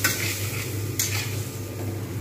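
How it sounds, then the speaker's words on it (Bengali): Spices and cauliflower fry in a pan for a vetki fish curry with a steady close sizzle, broken by a couple of sharp stirring scrapes. "এবারে একসঙ্গে সব কিছু কষে নেবো, মশলা"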